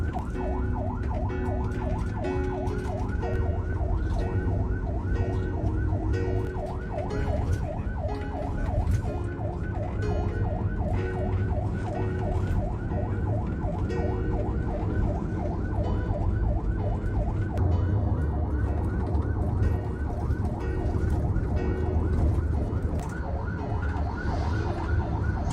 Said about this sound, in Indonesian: Ini ambulan ya.